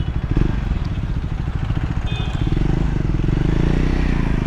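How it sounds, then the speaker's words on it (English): A Triumph Scrambler 400 X single-cylinder motorcycle engine runs loud and close with a throbbing, pulsing note that rises as the throttle opens, with no pause in the sound. "It doesn't feel like a powerful motorcycle when it's at idle, but the moment you pull the throttle, it's gonna take you to another level"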